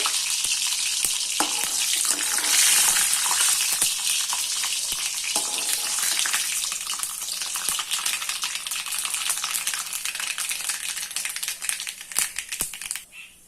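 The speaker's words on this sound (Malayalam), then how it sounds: "പൊട്ടി തുടങ്ങിയിട്ടുണ്ട് കേട്ടോ കടുക്." Mustard seeds crackle and pop in hot oil in a home kitchen, a steady close sizzle with many sharp little snaps scattered throughout and no talking.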